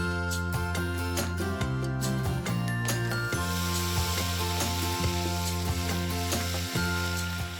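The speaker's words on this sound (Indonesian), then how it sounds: "Aku menumis bumbu hingga harum" Loud continuous sizzling of spices sautéing in a hot wok, with occasional metallic clinks and scraping of stirring, and music playing underneath.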